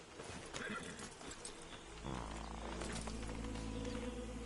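A horse whinnies amid ambient noise in Red Dead Redemption 2, followed by a steady low rumble and layered background sound effects.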